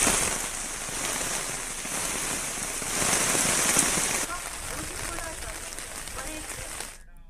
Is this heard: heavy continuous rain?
yes